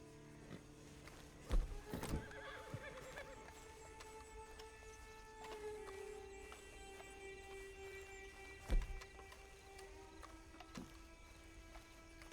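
In the Red Dead Redemption 2 game, a horse snorts and shifts nearby, with two sharp thumps of hooves or tack and scattered clinks over a humming ambient bed and sustained tonal music; no one speaks.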